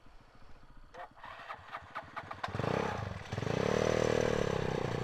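Yamaha Nouvo scooter engine cranking with a quick clattering starter, then catching and revving into a steady running drone, close to the microphone.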